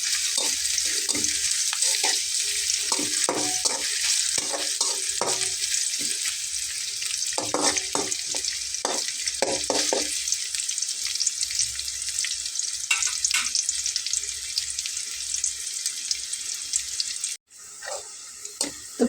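Onion and garlic frying in a pan, with a loud, steady sizzle and repeated stirring scrapes, cut off abruptly near the end and then resuming.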